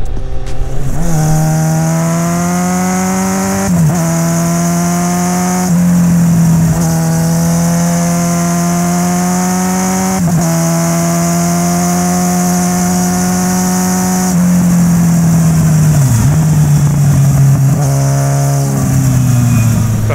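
A carbureted 650 Bandit motorcycle engine revving close by, its steady roar rising and dipping in pitch with each twist of the throttle over a continuous idle.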